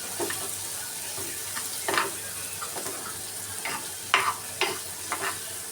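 A spoon stirs a dal mixture in a pan on a gas stove, giving a series of sharp, irregular scrapes and clinks over a soft, steady sizzle; no talking.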